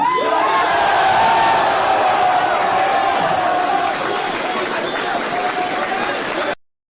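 A large crowd roars with cheering and clapping, a dense sustained wash of voices and applause that stays loud throughout before cutting off abruptly.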